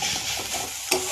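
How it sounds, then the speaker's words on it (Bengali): Onions fry with a steady sizzle in a pan while a utensil stirs them, ending in a sharp scrape or clack near the end. "পেঁয়াজ ভাজা করতেছিলাম"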